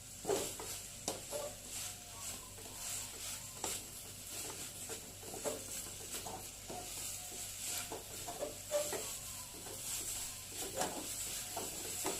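Moringa leaves wilting in a hot pan, giving a steady soft sizzle with scattered stirring clatters and patter throughout, no voices.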